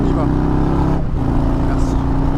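Harley-Davidson motorcycle engine rumbling steadily while leaning gently through a damp, shaded bend, a loud continuous low throb with a rider talking over it.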